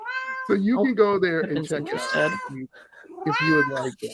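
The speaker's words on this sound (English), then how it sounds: "Sorry about the cat." A cat meows in a room during a talk about alien and UFO encounters, its cries mixed in among steady close speech that runs through most of the stretch.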